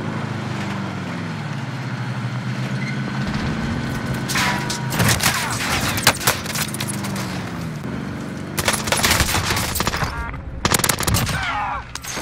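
Gunfire in the Warzone video game: bursts of rapid automatic shots and sharp single cracks, some close and loud, others more distant, coming in clusters over a steady background rumble.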